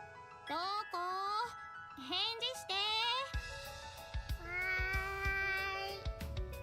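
A cat meows repeatedly in the video game Corona Blossom: a quick series of rising, tonal meows up close, then a longer drawn-out call over a soft, sustained background tone.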